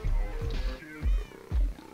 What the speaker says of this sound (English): I heard a kitty cat.